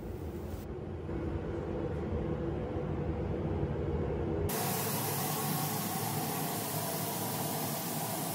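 Spray gun laying clear coat onto classic Rolls-Royce Corniche car parts: a steady, loud broadband hiss runs without pause, its tone shifting abruptly about halfway through as the spray continues alone.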